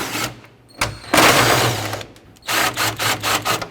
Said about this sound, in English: So with a 10mm socket, I'm going to pull all of these mounting nuts off.